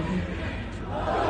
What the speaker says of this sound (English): The crowd actually shouting "Latifi."